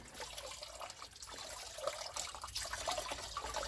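Coolant trickles and splashes steadily from the radiator of a 1968 Dodge Polara, a continuous close watery pour with no talk.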